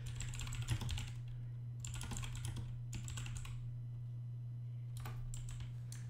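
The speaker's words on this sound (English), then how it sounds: "so I am like trying to type around it" Someone types on a computer keyboard with a microphone in the way, producing bursts of quick clicking keystrokes separated by short pauses, close and clear over a steady low hum.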